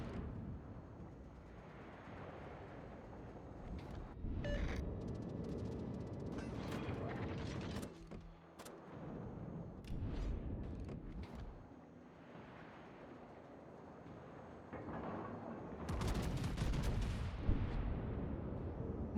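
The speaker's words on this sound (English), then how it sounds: "My god, so much shooting," Naval gunfire in a World of Warships battle, with distant booming salvos, clanking turret mechanisms and rumbling, fairly quiet bursts spread over about twenty seconds.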